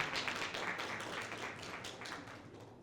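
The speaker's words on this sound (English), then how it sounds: "So can we give a round of applause to the team?" A book launch and panel discussion audience gives quiet, fairly distant applause for the organising team, a dense patter of claps that gradually fades.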